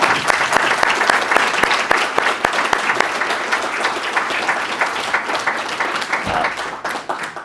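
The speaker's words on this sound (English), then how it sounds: "and let's give them all a round of applause." A sustained burst of dense applause fills the room at an annual members meeting of a sustainability organization, loud and steady before easing off toward the end.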